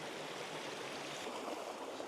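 A winter creek flows steadily, its broadband rushing and babbling wash heard up close from midstream, even and continuous with no voices.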